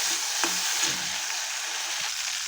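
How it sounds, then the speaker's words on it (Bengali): Cut prawns sizzling in hot oil in a wok, a constant nearby crackling fry with occasional light scrapes of a stirring spoon, no talking. "কেটে এখন লাল করে ভেজে নেব"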